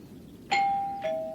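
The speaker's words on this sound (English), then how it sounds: "I rang the doorbell" A two-tone doorbell chimes once, clear and close, the second note following half a second after the first in a quiet room.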